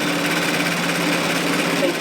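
An industrial sewing machine with a bias binder attachment runs steadily, a continuous even mechanical hum and buzz throughout the short clip, close and fairly loud.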